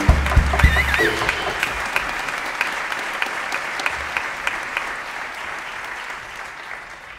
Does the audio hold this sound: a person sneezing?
no